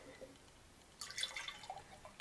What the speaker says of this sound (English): And something else I wanna say while I'm pouring this